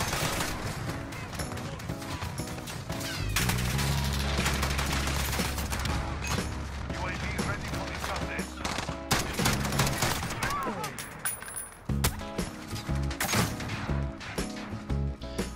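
FAL rifle fire in a video game, heard as dense bursts of gunshots over a busy, loud mix of game sounds and music.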